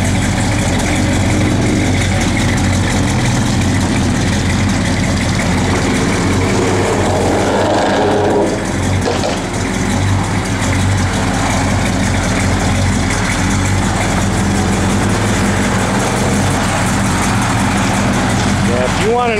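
A 1968 Dodge Coronet 500 convertible, a Mopar, idles with a steady, loud low rumble that holds throughout, with a person talking over it.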